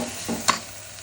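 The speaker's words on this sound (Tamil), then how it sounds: "அம்மியில் அரைச்ச மசால் நல்லா வதக்கிக்கலாம்" Stone-ground masala with turmeric sautés in a pan, heard in a quick burst as a soft steady sizzle broken by one sharp stirring clack near the middle.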